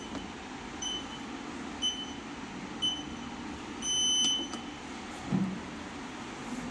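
Home gym exercise machine switching on: a series of short electronic beeps spaced about a second apart over a low steady running drone, with one longer tone and a faint clink, close by.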